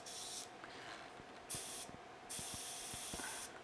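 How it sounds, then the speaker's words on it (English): An airbrush driven by a compressor sprays tiny dots of rust-colored paint onto a 1:200 scale model of the aircraft carrier USS Enterprise CV-6, giving several close hissing bursts with short gaps and faint clicks between them. "Here's my compressor."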